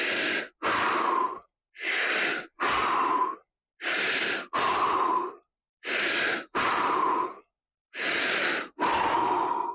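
Slow, deep breathing during a fascia-release stretch: five paired in-and-out breaths, each a soft airy rush about a second long, evenly spaced with short silences between, close and quiet.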